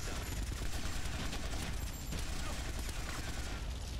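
Rapid bursts of gunfire from GTA: Vice City Stories keep up a loud, sustained volley, with shots crackling over a rumbling game soundscape.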